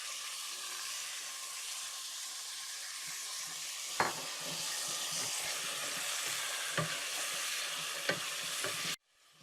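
Steady sizzling of mutton frying in garlic-ginger paste in a karahi, with occasional scraping clinks of a spoon stirring, close and continuous throughout.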